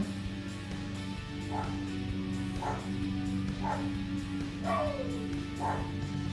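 Dogs bark in the distance at roughly one-second intervals, faint beneath a steady engine-like hum.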